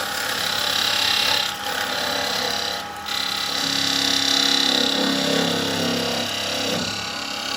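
A chisel makes a release cut in a spinning wooden box on a lathe, producing a loud whirring, scraping tool-on-wood sound with a couple of brief dips and a shifting tone as the cut deepens.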